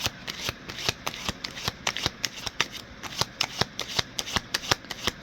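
Tarot cards shuffled by hand in quick, steady riffling snaps, about four per second, close and crisp with no talking.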